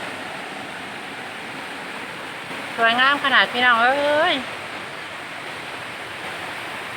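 Ton Sai waterfall pours as a constant broadband rush of falling water, loud and unbroken, with someone speaking briefly over it midway.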